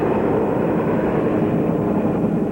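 Colombian police crop-spraying planes and helicopters working over coca and poppy fields, heard as a steady, loud broadband engine drone that holds without a break.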